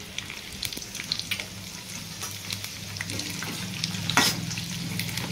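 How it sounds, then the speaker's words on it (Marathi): Peanuts frying in oil for chana koliwada (crispy chickpea fry), giving a steady close sizzle with light crackles and a brief louder burst near the end, heard alone without talk. "आणि आपल्याला त्यामध्ये एक छोटी वाटी शेंगदाणेही तेलात तळून घ्यायचे आहेत"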